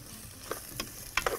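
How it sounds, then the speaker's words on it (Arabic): Onions caramelizing in a pan with a little sugar, stirred with a few quick scraping strokes over a soft sizzle, close and fairly quiet. "نقعد نقلب نقلب نقلب لغايه لما يتكرمل"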